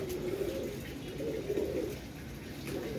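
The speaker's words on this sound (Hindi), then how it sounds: "ये दोस्तों कबूतर नीचे उतारने लगे" Pigeons coo softly and repeatedly at a rooftop coop, low rolling calls close by over faint background hiss.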